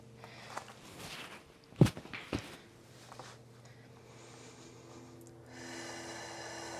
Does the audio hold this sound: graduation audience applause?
no